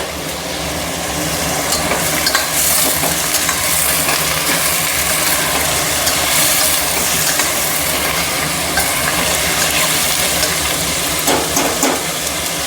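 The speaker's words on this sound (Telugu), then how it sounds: "ఇందులో ఆనియన్స్ వేసుకుందాం. ఆనియన్స్ రెడ్ కలర్ వచ్చే వరకు ఫ్రై చేసుకోవాలి." Onions fry in a hot pan with a loud, continuous sizzle and crackle, close up and unbroken, with occasional stirring scrapes.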